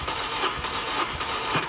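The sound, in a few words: car engine cranking during compression test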